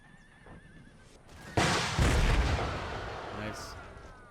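Cavalry horses neigh amid battle in the video game Empire Total War, with a brief whinny followed by a loud burst of artillery-like booming and gunfire that fades away.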